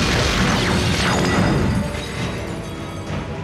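A magic shield shattering as a fantasy movie effect, a loud, dense crash and roar that fills the first seconds and then tails off into a rumbling wash.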